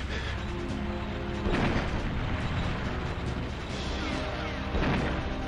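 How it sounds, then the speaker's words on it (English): Explosions from a tank level in the 1997 GoldenEye 007 video game, two heavy booming blasts about three seconds apart over a dense, constant roar of game noise and music. "Explosion not enough?"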